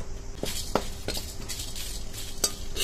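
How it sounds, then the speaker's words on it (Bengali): Whole cumin, peppercorns, curry leaves and dried chillies fry lightly in a pan for a South Indian rasam, giving a steady close sizzle punctuated by several sharp spoon clinks and stirring scrapes. "1 চামচ জিরে, 10-15টা গোলমরিচ, কারি পাতা আর 3টে শুকনো লঙ্কা হালকা করে একটু ভেজে নেব।"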